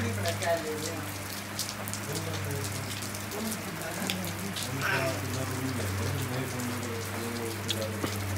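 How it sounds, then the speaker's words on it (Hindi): Heavy rain during a family trip to Victor Harbor, a dense continuous patter of drops on surfaces with a steady hum beneath and faint voices now and then. "बारिश बहुत ज्यादा है"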